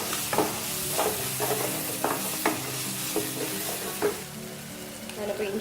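Onion and tomato sautéing in a pan for a spicy chicken gravy, a continuous sizzle broken by regular scraping strokes of a spoon roughly every second, close and fairly loud.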